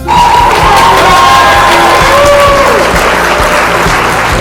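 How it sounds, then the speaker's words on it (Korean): Congratulatory applause from a church youth worship group, a dense sustained clapping with some cheering and crowd voices mixed in, loud and steady throughout. "우리 모두 정답을 맞춘 친구와 또 회원권에 당첨된 친구들에게 축하 박수 쳐줄까요?"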